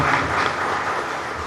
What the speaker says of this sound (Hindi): सभी एक दूसरे को उत्साहवर्धन में तालियों की गड़गड़ाहट करें